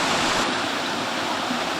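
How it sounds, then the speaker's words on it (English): A creek cascade on the Sunshine Coast of Queensland, Australia, pours steadily, a loud, continuous, close rush of flowing water with no pauses or voices. "It's a very gutsy kind of creek."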